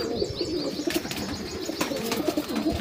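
Madrasi pigeons of the Pulsar line coo softly in repeated low bursts, with occasional brief wing flutters and clicks in a quiet loft setting.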